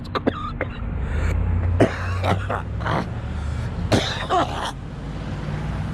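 Several sharp coughs and throaty clearing sounds, scattered over a steady low rumble like a running vehicle interior.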